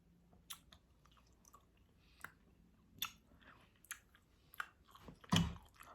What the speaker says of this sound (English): I'm chewing like a cow,